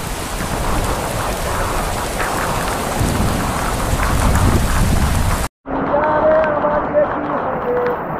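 Heavy rain pours down with thunder in a West Bengal village, a loud, steady roar of close drumming drops for about five seconds, then a brief break before softer rain continues with faint tonal sounds in the background.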